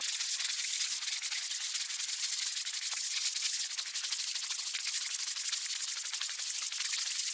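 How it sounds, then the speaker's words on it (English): A teak tabletop is sanded by hand with 220 grit sandpaper, giving a steady, close scratchy rubbing hiss that runs continuously without pause and with no voices. "now I'm going in with a 220 grit just to make sure it's nice and smooth"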